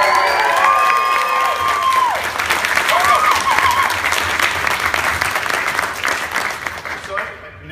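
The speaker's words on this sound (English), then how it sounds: "we have that initial kind of crowd moment, and I always ask for a bigger cheer, but that was pretty good" An audience at a Comic-Con comics panel bursts into loud, sustained applause mixed with cheers and whistles, close and dense, tapering off near the end.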